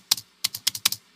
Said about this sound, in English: This is an Apple keyboard.